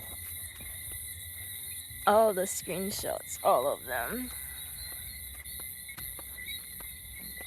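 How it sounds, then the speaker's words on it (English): Crickets chirping outdoors in a steady, high-pitched continuous trill that runs throughout, while a person talks briefly over it in the middle. "It's your friends, the crickets."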